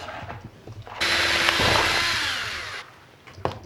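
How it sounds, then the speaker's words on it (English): A power drill whirs loudly and steadily for a couple of seconds, bores through material, then winds down, with faint clatter before and after. "Now I'm gonna drill them out."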